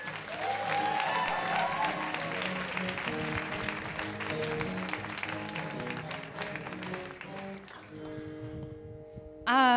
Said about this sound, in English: how about a big round of applause for Giulia?